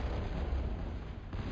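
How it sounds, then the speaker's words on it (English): Artillery shelling from Thud units in a real-time strategy game match, a continuous low rumbling barrage of muffled booms rolling on steadily throughout with no talk over it. "A little bit of shelling going on here from the thuds."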